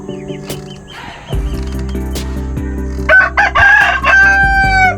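A backyard rooster crows loudly and close by, its long drawn-out call rising over steady outdoor ambience with engine-like hum underneath.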